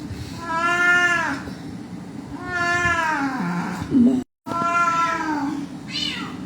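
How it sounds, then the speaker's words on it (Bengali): A cat blind in both eyes meows three times in drawn-out, wavering cries, close and loud, with a brief thump near the end and low background noise throughout. "2 চোখ অন্ধওয়ালা বিড়াল"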